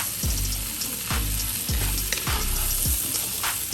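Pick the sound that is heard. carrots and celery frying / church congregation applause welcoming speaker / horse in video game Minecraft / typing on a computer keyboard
carrots and celery frying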